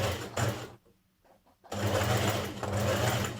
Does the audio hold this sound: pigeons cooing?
no